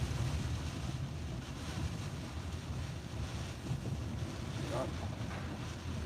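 Hurricane-force winds roar steadily across Key Largo, a constant, loud broadband rush buffeting the microphone with surging water noise and no pauses.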